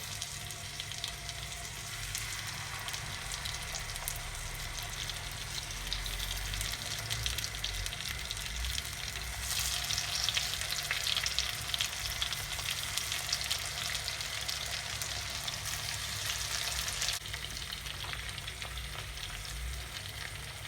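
Tomatoes sizzle in butter in a pan for a Turkish breakfast dish, giving a steady, close crackle with occasional light scraping and stirring and no talk.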